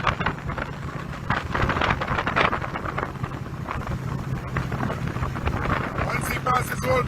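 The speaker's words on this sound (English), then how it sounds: "There's going to be some gusts of wind" Gusts of wind buffet the microphone in a steady rough roar with bursts, outdoors during a junior cross-country race near Old Belize, with talking over it.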